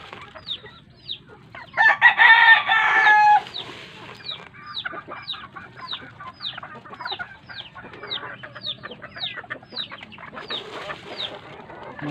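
Backyard laying hens cluck in quick, repeated bursts, with one loud squawking outburst early on, then steady clucking continues close by.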